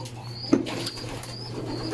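Racing pigeons in a loft give soft low coos, with a brief burst of wing flapping near the middle, close by and fairly quiet against a steady background hum.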